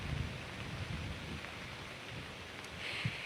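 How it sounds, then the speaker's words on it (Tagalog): Steady rain during a typhoon in Pagudpud, Ilocos Norte, a continuous broadband hiss of falling water with a few faint low rumbles underneath, no voices. "sa mga oras nga na ito nakakaranas na ng pag-ulan sa ilang bahagi ng Ilocos Norte"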